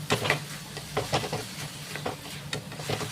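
Spiced elephant-foot yam stalks, cooked with prawns, sizzle in a pan while a spatula scrapes and stirs in repeated short strokes, close and moderately loud.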